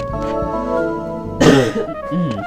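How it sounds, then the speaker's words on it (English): A short, harsh cough bursts out midway through, between stretches of sustained tonal sound. "Coughing, yay."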